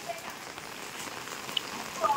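Steady rain falls outdoors while a family walks through it on a trip to Mangaluru, a soft continuous patter with a few brighter droplet ticks, moderately close and unbroken, with no clear talk over it.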